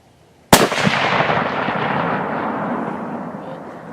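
A single loud rifle shot from a Bushmaster .308 cracks out during a coyote hunt outdoors, followed by a long rolling echo that fades slowly over several seconds.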